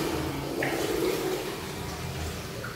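An artificial waterfall at a resort jacuzzi in Boracay pours with a steady, moderately close rush of falling and splashing water, and a voice is briefly audible over it.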